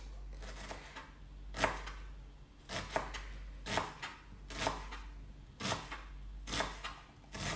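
A knife chops an onion on a board in quick rhythmic clusters of sharp, close taps, repeating evenly throughout with no speech.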